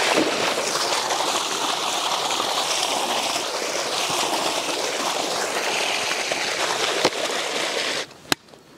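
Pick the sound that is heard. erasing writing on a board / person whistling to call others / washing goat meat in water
washing goat meat in water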